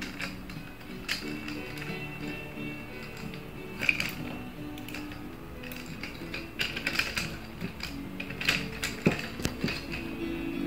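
Close ratcheting clicks and creaks from screws being turned tight on an OROTUNE KK-007 phone and camera overhead stand and microphone mount, irregular and fairly quiet.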